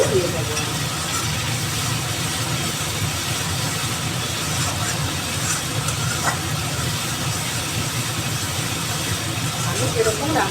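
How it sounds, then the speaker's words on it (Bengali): Food sizzles steadily in a pan as it is stirred and cold water goes in, a loud, continuous close hiss with faint scraping through the whole stretch. "এবার আমি আরেকটু নেড়ে চেড়ে, গরম জল দিচ্ছি না, ঠান্ডা জলে দিয়ে দেবো।"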